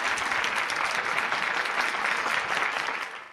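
A television studio audience applauds steadily and loudly throughout, a dense wash of clapping that holds level and then tapers off at the very end, with no talk over it.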